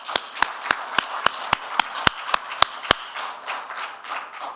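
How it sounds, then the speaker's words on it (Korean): A church congregation claps in a steady rhythm, about a dozen sharp, loud, even claps in a row, then trails off into scattered softer applause. "우리 하나님께 박수 한번 올려드립니다."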